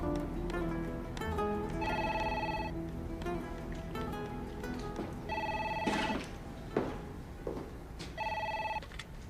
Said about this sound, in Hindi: फोन मत उठाओ।